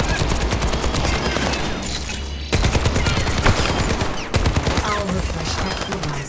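Soldier 76 fires his heavy pulse rifle with tactical visor active in Overwatch 2 training, a loud continuous stream of rapid shots against bots, with a couple of sharp impacts and faint game voice underneath.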